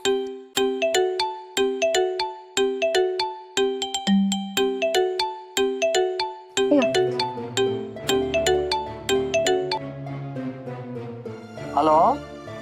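A mobile phone ringtone plays a repeating bright chiming melody in a village home, loud and close, cycling several times before the tune shifts near the end.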